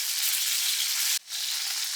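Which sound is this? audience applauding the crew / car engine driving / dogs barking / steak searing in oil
steak searing in oil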